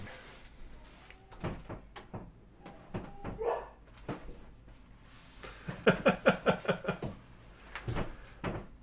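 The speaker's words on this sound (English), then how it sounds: "Oh, dogs." Dogs bark in a fast burst of several sharp, fairly close barks after scattered knocks and thumps, with a few more single barks following, no talk over them.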